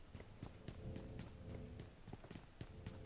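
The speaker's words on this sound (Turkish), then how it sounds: "Ayak sesi alıyorum." Footsteps thud in PUBG Mobile, a steady run of quick, evenly spaced steps, muffled and fairly faint, with no talking over them.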